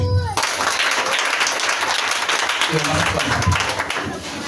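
A church congregation claps and cheers through a Palm Sunday service, dense applause swelling and holding steady, with voices calling out among the clapping.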